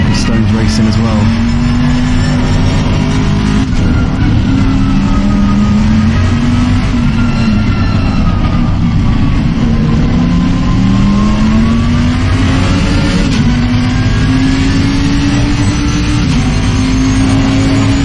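GT3 race car engines in Assetto Corsa Competizione at Silverstone, a loud continuous roar with rising and falling engine pitch as cars race through traffic, with commentators talking over it.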